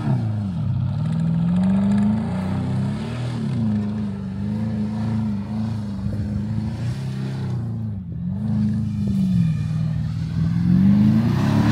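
Porsche Cayenne with a V8 engine driving hard through a sand quarry, its engine note rising and falling steadily as it revs and accelerates, loud and close throughout with some clatter.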